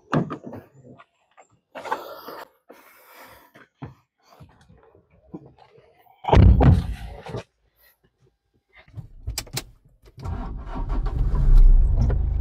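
A car engine cranks and catches, then revs in loud bursts as the car pulls away in light rain, with quieter handling noises and short gaps before it.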